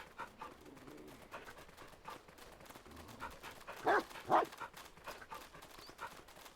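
Dogs bark in the video game My Little Puppy, two short yelps close together midway over a soft game soundscape, with no talking.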